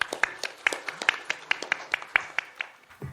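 An audience at the inauguration ceremony for the IDI Karanganyar branch board claps in a brisk, even rhythm. The claps are crisp and fairly close and stop after a few seconds.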